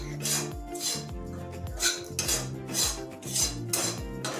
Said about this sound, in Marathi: तर आता मी चण्याचं पीठ भाजून घ्यायचं आहे, जरा तूप टाकून घे